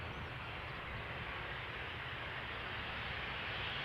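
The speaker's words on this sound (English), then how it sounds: "737-800. It is arriving from Palma de Mallorca, where it left 2 hours 20 minutes ago." A Boeing 737-800, eleven years old and arriving from Palma de Mallorca, roars steadily and fairly loud as it comes in at Amsterdam Schiphol Airport on a misty day, with broadband jet engine noise holding constant throughout.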